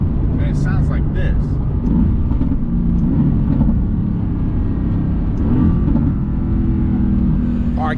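A Mercedes-AMG GT S sports car engine revs in a low, steady droning growl that swells slightly, with voices talking over it throughout.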